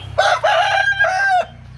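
Rooster crowing in a chicken breeding enclosure, one close, loud crow with a brief stutter at the start, rising and drawn out before cutting off, over a faint steady background hum.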